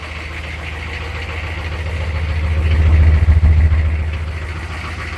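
Diesel engine of a 1994 GMC Suburban with a 6.5 turbo diesel, idling in a steady low rumble that swells a little in the middle, heard alone at close range.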